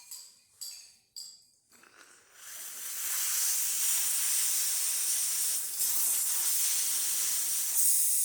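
Loud, steady hiss of steam from the wand on a serviced Kanen espresso machine, starting after a few short sputtering bursts and running continuously for several seconds, close and unbroken.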